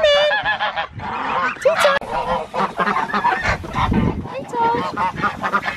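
Domestic ducks give loud, close, repeated honking calls at feeding time outdoors, and a person calls out briefly between the calls.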